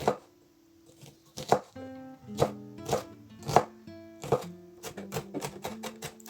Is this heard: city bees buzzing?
no